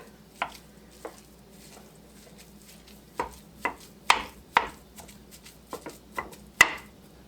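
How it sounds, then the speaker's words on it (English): Ground beef in a pan being broken up with a utensil for a Southern beef casserole: scattered sharp taps and scrapes, sparse at first then more frequent, over a quiet low hum. "So I'm going to break it up to where I can sprinkle some seasoning over the top."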